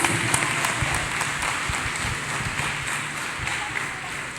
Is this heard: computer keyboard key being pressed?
no